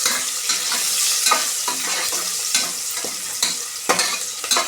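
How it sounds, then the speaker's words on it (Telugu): Pongal ingredients with turmeric roasting in a pan, a continuous bright sizzle with regular scraping strokes of a spoon stirring through, close and steady. "ఇలా కలుపుకోవాలి, బాగా ఏగనివ్వాలి"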